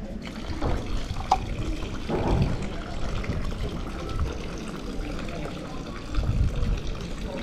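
Drinking water from a public fountain in Italy pours and trickles steadily, close by and fairly quiet, with a soft watery gurgle and a few faint background voices.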